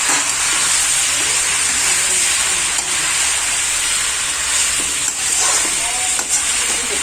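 Vegetables sizzle loudly in a hot pan as they are stirred with turmeric and salt, a steady close hiss with faint scraping.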